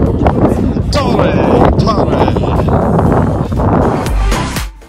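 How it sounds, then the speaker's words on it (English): Strong wind rushing across the microphone at the summit of Torre mountain in Portugal, loud and steady throughout, with voices speaking under the gusts. "It's a bit windy up here"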